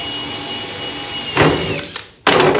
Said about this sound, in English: Okay, it's our tap drill.